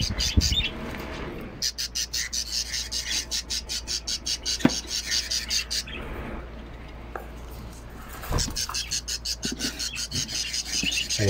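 Young bird chicks chirp in rapid, repeated bursts of thin high cheeps, close by, pausing briefly between runs, with a few soft scuffs and flutters in between.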